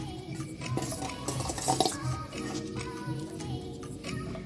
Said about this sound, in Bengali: লবণ হলুদ দিয়ে এটাকে সুন্দর করে মাখাবো